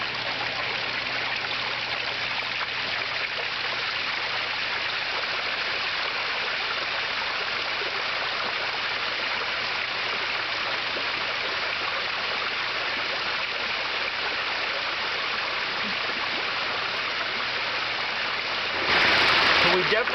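Water pours steadily over the rocks of a backyard pond waterfall, some of it leaking behind the stones, as a loud continuous rushing splash that holds evenly throughout and swells briefly near the end.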